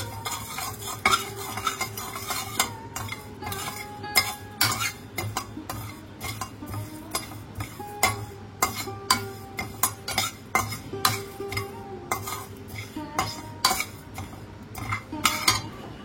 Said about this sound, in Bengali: খুব ভালোভাবে আমরা ড্রাই রোস্ট করে নেবো মশলাটাকে